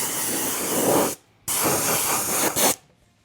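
Close aerosol bursts of fluorescent orange paint onto a Pro-Line NASCAR truck body for an RC truck: a long hiss, a brief pause, then a second long hiss ending in a short extra puff.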